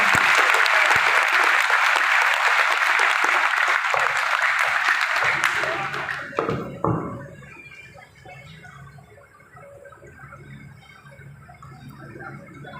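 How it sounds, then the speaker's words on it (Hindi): Loud, dense applause from a seminar crowd for about six seconds, then it breaks off into a few scattered claps and quieter room noise with a voice. "ताली बजा सकते हैं एक बार जोरदार वाली सर?"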